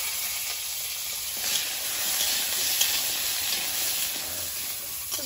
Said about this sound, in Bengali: কড়াইতে সামান্য তেল দিয়ে দেব, ডাঁটাগুলো একটু তেলে হালকা ভেজে নেব